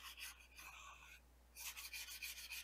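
Sandpaper rubs back and forth over a rail in a woodworking shop to knock off loose burrs, giving soft, rhythmic rasping strokes, close and quiet, with a short pause between two runs of strokes.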